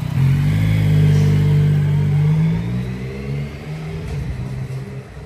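A Yamaha MT-09 Y-AMT motorcycle engine held high against the rev limiter, a loud close buzzing drone that wavers briefly, then drops back and rumbles at lower revs.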